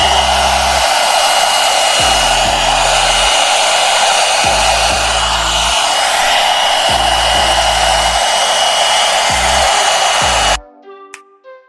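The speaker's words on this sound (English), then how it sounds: "And now I'm going to blow dry this section." An Alan Truman blow brush dries a section of hair, a loud steady electric whir with rhythmic dips and surges as the brush moves, cutting off abruptly near the end.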